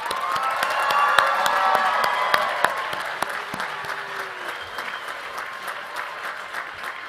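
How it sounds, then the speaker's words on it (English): Sustained applause and cheering from the audience at the 2022 KGI commencement ceremony for Masters in Business and Science graduates of the Henry E. Riggs School, with dense clapping and scattered whoops that gradually thin out over several seconds. "Have a round of applause, please, for our Masters in Business and Science graduates."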